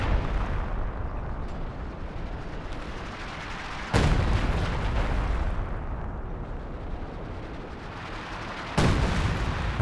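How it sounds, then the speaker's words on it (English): Howitzer shells land in a Company of Heroes 2 match, a dense continuous roar of battlefield fire with two sharp, loud impacts standing out above the rumble, no voices. "Howitzer coming down now on the Zis."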